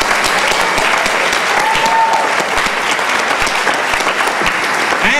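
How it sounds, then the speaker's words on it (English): Audience at a family concert in the La Jolla Music Society's SummerFest 1999 applauding steadily, a dense, loud wash of clapping that lasts the whole stretch with a few faint voices beneath. "A little applause for that."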